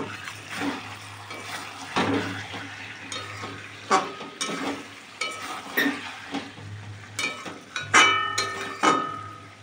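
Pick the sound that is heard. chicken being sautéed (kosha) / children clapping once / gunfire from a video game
chicken being sautéed (kosha)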